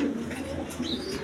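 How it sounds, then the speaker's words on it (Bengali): A pair of pigeons, a male and a female, coo softly and continuously at close range in a short burst. "দর্শকবৃন্দ এইখানে এক পেয়ার কবুতর আছে।"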